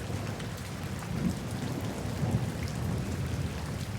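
A thunderstorm pours steady, dense rain with low rumbles of thunder rolling underneath, loud and continuous with no voices.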